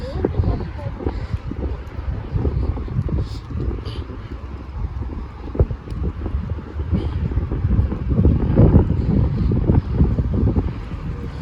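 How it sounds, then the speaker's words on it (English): Strong wind in Grande Prairie, Canada buffets and rumbles continuously with gusting low roars, loud and close throughout. "Oh, it's so windy."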